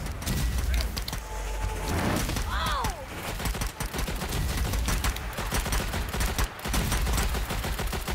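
Rapid gunfire from the Strange Brigade video game, dense continuous bursts of shots with clattering impacts and a whistling projectile, loud and up front, with people talking over it.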